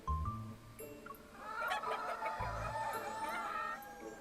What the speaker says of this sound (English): The chicken suddenly let out angry cries.